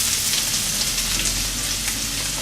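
Small chopped onion frying in hot oil in a pan, giving a steady, dense, crackling sizzle close up and fairly loud, unbroken throughout with no voices.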